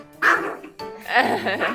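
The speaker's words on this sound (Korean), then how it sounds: "다리가 짧아 슬픈 강아지." A small short-legged dog gives a few high yips and whiny barks in quick succession, close and fairly loud, with wavering whimper-like tones between them and no clear talk.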